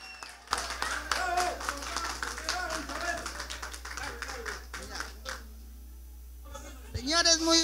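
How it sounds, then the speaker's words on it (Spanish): Guests at a birthday party applaud Señora Chabelita with a burst of clapping mixed with voices and cheering, then it fades to near quiet before voices return. "a ver que vengan los aplausos para la señora Chabelita"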